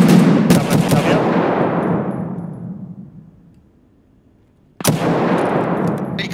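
Gunfire in Escape from Tarkov: a loud burst of rapid shots echoing and fading over a few seconds, then a quiet gap, then another sudden volley of shots and continued noise.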